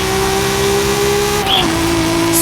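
A BMW M3 GTR engine in a racing video game screams at high revs, climbing steadily in pitch, then dips briefly on a gear change before pulling hard again, loud and continuous.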